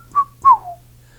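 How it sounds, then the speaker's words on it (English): Two whistled calls in Mazatec whistle speech, a short pitched tone followed by a longer gliding one, clear and fairly loud with a faint hum beneath and no talking. "then I'll do the whistle, and you'll see what the secret of it is"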